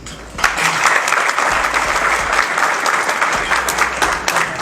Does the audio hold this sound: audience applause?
yes